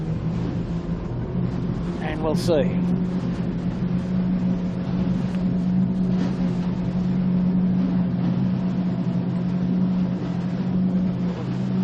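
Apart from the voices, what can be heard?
camera catamaran motorboat engine revved to full throttle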